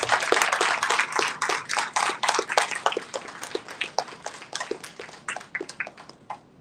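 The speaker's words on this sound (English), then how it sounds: "Keep the applause coming, please." Audience applause at an awards ceremony in Gurgaon, a dense crowd of hand claps swelling loudly at first and then thinning into scattered sharper claps over several seconds, with no voices over it.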